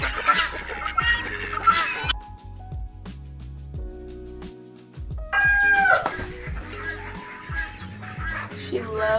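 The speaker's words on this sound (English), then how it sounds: "She's a really good chicken." A pet chicken clucks and calls in a few close bursts, loud at the start and again mid-clip, with household noise and brief quieter gaps between.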